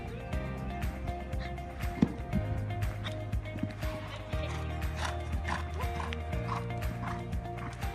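A horse canters during a riding lesson, its hoofbeats landing in a rhythmic three-beat pattern at moderate distance over a background bed of music.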